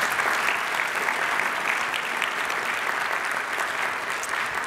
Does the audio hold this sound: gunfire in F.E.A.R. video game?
no